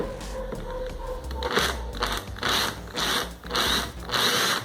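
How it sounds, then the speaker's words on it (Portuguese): A power drill bores a hole through the centre of an MDF board for a mirrored coffee table, whining in loud repeated bursts with short pauses between them, close up and with no voices. "Vai fazer um furo bem no centro."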